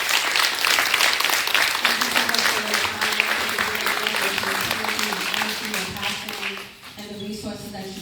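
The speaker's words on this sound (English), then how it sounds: "Let's give them a round of applause." Audience applause for panelists at a domestic violence awareness event, a dense burst of clapping that fades toward the end as voices and a hum emerge.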